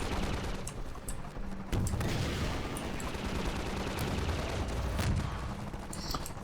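Sustained rapid gunfire in Half-Life 2, a dense stream of shots and bursts running continuously under game ambience, loud and close, with no talk.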